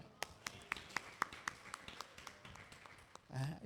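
A church congregation claps hands during a Tamil sermon, a run of sharp, fairly faint claps in a loose, uneven rhythm that thins out, ending with a brief low rumble.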